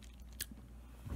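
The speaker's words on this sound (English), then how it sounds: "if you hate the sound of chewing food like this" Close, wet chewing of food at lunch, a couple of soft crunchy bites and mouth noises in a brief quiet moment.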